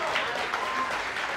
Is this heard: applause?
yes